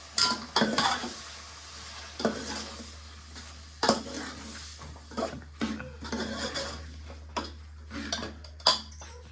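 Spice tempering sizzles in a pan in a home kitchen while a utensil scrapes and knocks against it, with irregular clanks over a low steady hum.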